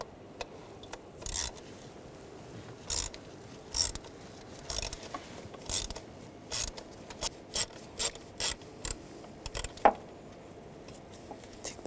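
Ratcheting removal of a screw with an M5 triple square socket on a 2004–2009 Audi A4 Quattro 2.0L engine, a series of quiet rhythmic clicks and rasping turns close up, speeding into regular ticks midway.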